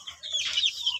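Chicks cluck close by in a short burst of high-pitched, rapid calls.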